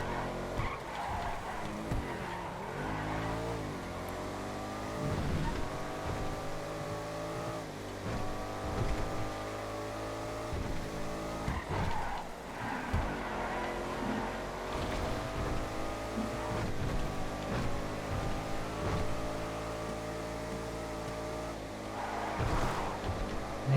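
SUVs racing in GTA FiveM, with sustained engine roars rising and falling through gear shifts, tire skids and squeals, several cars close together over a long stretch.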